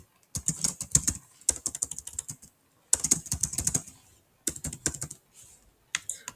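Keys on a computer keyboard clatter in quick bursts of taps as an email address, password and captcha are typed into a login form, with short pauses between runs and no voices.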